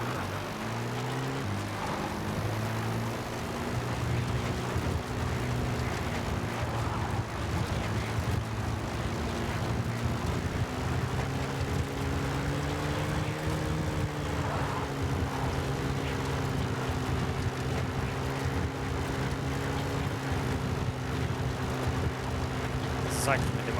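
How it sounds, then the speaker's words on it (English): Support helicopter hovering at a landing zone in the video game Metal Gear Solid V: The Phantom Pain, a steady close rotor and engine drone with a droning harmonic hum that shifts slightly in pitch, under radio-style voice talk. "Support helicopter has arrived."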